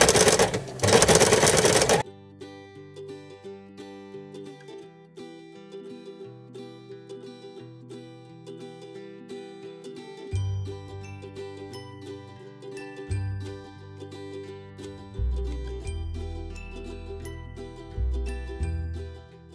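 A sewing machine stitches piping into a shirt seam, starting with a loud, brief whirring burst, then quieter stretches of stitching and backstitching under light tonal background sounds.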